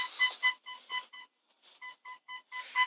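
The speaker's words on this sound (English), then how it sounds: "just stick it in reverse. Hear that beep?" Short electronic beeps from an MG ZR Turbo's reverse parking sensor repeating at a steady rhythm, close and clear, pausing briefly before starting again.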